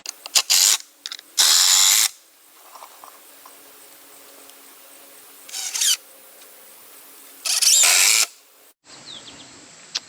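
A power drill drives decking screws into timber for a kayak rack in a series of loud, short bursts of whirring, separated by quiet pauses, with a final brief whine at the end.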